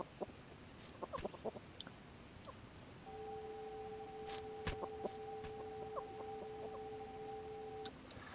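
Video game chickens cluck in short scattered bursts over a steady ambient background, with a sustained two-tone hum running through the middle, no talking.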